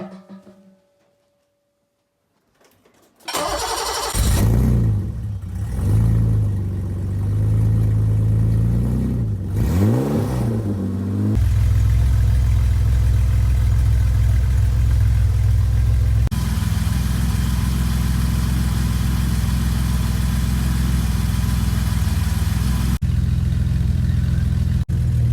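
After a few seconds of near silence, a BMW E28 535i with a blown engine, sitting unused for 18 years, cranks and fires up, revving unevenly a few times before settling into a loud, rough, continuous idle.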